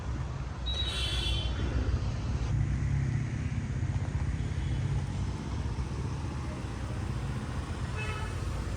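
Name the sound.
car approaching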